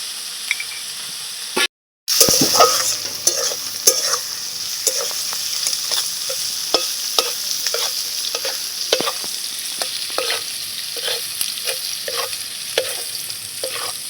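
Spices with turmeric and salt sizzle steadily in a hot pan while a utensil scrapes and taps at a regular rhythm, close and loud; after a brief cut near the start the frying continues without talk.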